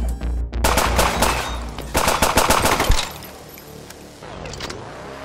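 Rapid SMG bursts in the side-scrolling shooter Gunsaw, loud close rattling shots in quick runs for about three seconds, then quieter game noises.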